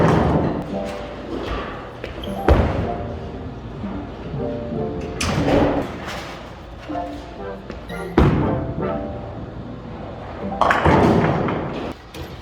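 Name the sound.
two-handed bowling ball released and rolling down lane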